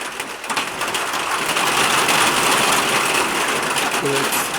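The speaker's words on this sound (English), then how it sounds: "it's some heavy rain." A heavy downpour makes a loud, continuous broadband roar that fills the whole stretch, rushing steadily with a slight rattling texture.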